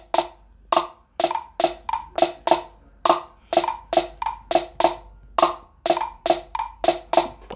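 Trapdoor machine drum snare in GarageBand, played as a busy repeating pattern of crisp, short snappy hits with some quick doubled strikes, dry, close and prominent.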